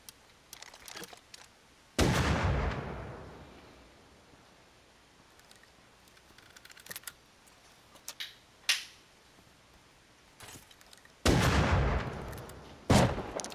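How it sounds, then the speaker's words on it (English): A shotgun trap goes off in a raid game, with several sharp, loud close blasts spread across the stretch and fainter clicks and shots between them. "I got killed by the shotgun trap"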